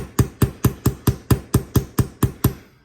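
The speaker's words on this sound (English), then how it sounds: "I'm gonna hammer the shit out of it again, but a little bit tougher" Eleven sharp, evenly spaced hammer strikes on a metal tag, punching a dot to give it a hammered look, each a crisp close metallic tap with a short ring, arriving in a quick steady rhythm before fading out.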